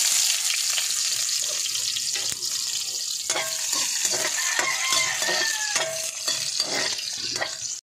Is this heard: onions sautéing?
yes